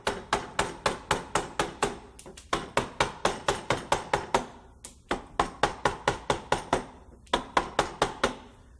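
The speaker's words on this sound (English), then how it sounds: "When you're driving the tool down like this, it's called setting in." A mallet strikes a carving tool being set into softwood butternut, giving a steady run of loud, close, sharp knocks in quick bursts of about eight blows each, separated by brief pauses.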